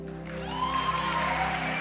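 A studio audience on a Got Talent stage breaks into applause, a steady wash of clapping that swells over a sustained musical backing and continues throughout.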